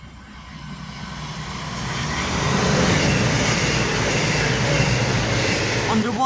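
A passenger train passes Marston Green station, its broad rumble building over the first few seconds and then holding steady and loud to the end, with no talk over it.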